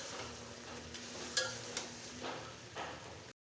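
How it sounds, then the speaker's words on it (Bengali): Pieces of bottle gourd stir-fry in a pan for a prawn curry, giving a soft, steady frying hiss with a few light scrapes and clinks. The sound is close and quiet. "এখন লাউটাকে ভালোভাবে কষিয়ে নেব।"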